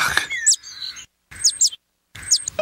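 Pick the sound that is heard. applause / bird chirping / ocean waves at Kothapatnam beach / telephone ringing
bird chirping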